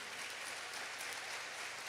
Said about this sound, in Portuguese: Vamos dar um aplauso, comunidade Rio Azul.